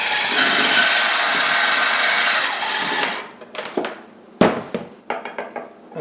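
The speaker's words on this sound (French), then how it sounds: "On va crémer le beurre." Butter being creamed for a lemon sour cream cake frosting: a steady, loud whirring mixer runs for about three seconds, then gives way to scattered scraping and knocking in the bowl.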